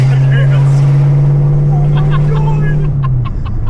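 Car engine held at full throttle while the car drifts sideways during a test-and-tune session: a loud, sustained, droning roar that dips slightly near the end, with voices faintly present.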